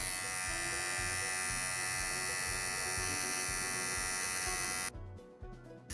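A Wahl electric hair clipper fitted with Diamond 5-in-1 blades runs with a loud, steady close buzz, then cuts off abruptly near the end.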